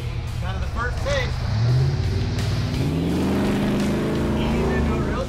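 Supercharged 1989 K5 square body truck accelerating into mud, its engine building to a loud rising roar, up close, with excited voices talking over it.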